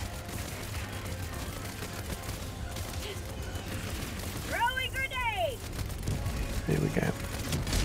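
Grenade blasts and gunfire crackle through a Helldivers 2 firefight against Automatons, a steady barrage of booms with a whistling sweep midway, while someone talks over the action.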